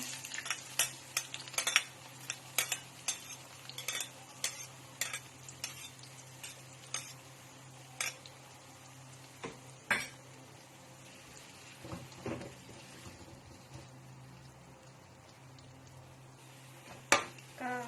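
Shallots frying in a pan for a dish of fried salted mackerel, with steady sizzling, frequent sharp clinks of a utensil stirring and scraping against the pan, close and fairly loud, no talking.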